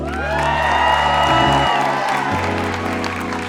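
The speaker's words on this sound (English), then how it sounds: "Give a warm round of applause for Mark." A television dating-show studio audience in Philly bursts into loud applause with whoops and cheers, sustained clapping that swells and then eases.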